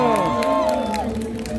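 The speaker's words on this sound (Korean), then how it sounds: "박수 한번 부탁드려요. 박수!" A street busking crowd cheers and shouts in a lively wash of voices, with a few scattered claps mixed in, near and fairly loud.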